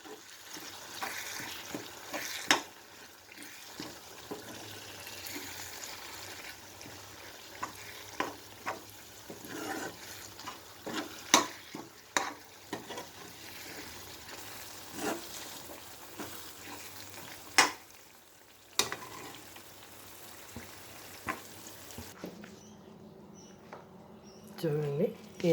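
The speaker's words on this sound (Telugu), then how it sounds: "మంచి వాసన వచ్చేదాకా వేయించుకోవాలండి." A tempering for mango pulihora fries in a pan with a steady sizzle while a spoon stirs and scrapes it in irregular knocks. A person talks over the cooking throughout.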